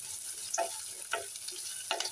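Rice and dried chillies dry-roast in a pan, a faint steady crackle broken by a few soft scraping stirs, quiet and close with no voices.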